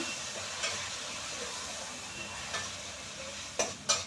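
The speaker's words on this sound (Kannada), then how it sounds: "ನಾನು ಮೀಡಿಯಂ ಫ್ಲೇಮಲ್ಲೇ ಇದನ್ನು ಫ್ರೈ ಮಾಡ್ಕೊಳ್ತಿದ್ದೀನಿ ರುಬ್ಬಿರುವಂಥ ಮಸಾಲೆನ" Ground masala fries in a pan over a medium flame, giving a steady soft sizzle with occasional light stirring scrapes and a couple of sharper clinks near the end; quiet, with no voices.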